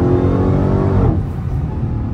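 A Dodge Hellcat accelerates hard in third gear, a loud close rising engine roar that drops off into a rumbling lift-off about halfway through.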